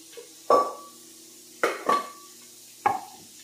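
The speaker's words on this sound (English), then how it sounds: "I'm going to rinse them all out now and let them drain out a little bit" Chopped yams being rinsed in a pot: a few separate clanks and knocks of the yam pieces and water against the metal pot, close and fairly loud, with quiet gaps between them.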